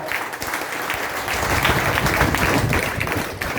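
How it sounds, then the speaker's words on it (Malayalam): Applause from an audience at a leaders' meeting, a dense, steady wash of many hands clapping that fills the whole stretch at a constant, fairly loud level. "കൈയടി പോരാ."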